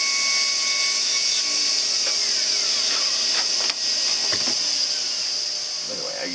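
A dental burr grinds the distal of a denture tooth on a partial denture setup with clasp wires, giving a steady, loud high-pitched whine that runs continuously and eases slightly near the end.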